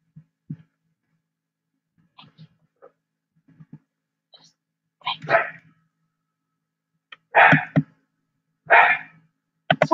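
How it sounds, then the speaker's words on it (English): A dog barks in short bursts, a few loud, close barks later on, with sparse quieter sounds and pauses between them. "it's kind of annoying when it barks"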